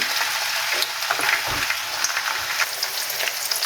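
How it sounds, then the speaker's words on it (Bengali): Chopped onion dropped into hot oil for a potato and fenugreek dish fries with a steady, close, loud sizzle and crackle throughout, with no voices. "তেলটা গরম হয়ে আসছে, এখন আমি এর মধ্যে দিয়ে দেবো মিডিয়াম সাইজের একটু পেঁয়াজ কুচি।"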